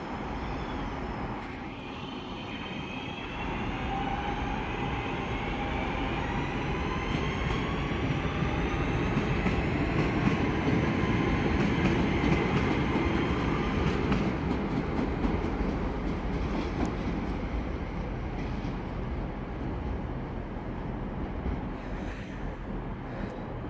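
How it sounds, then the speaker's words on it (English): A Class 323 electric multiple unit pulls out of a station on the Styal Line at Manchester Airport, a steady rolling rumble with faint clicks and a rising whine that holds near and loud throughout. "we have the 323-229 leaving off to Oldley Edge."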